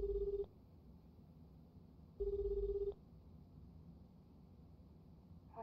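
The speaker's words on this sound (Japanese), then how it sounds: "電話しています。" Phone call in the video game Lost Judgment: two clean electronic ringback tones, each lasting about half a second, separated by a pause over quiet background hiss.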